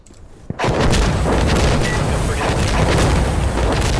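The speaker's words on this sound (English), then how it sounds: "some stupid artillery" Artillery fire in the shooter game Insurgency Sandstorm, a sudden heavy boom followed by a dense, continuous rumbling barrage of blasts and crackle, loud and close.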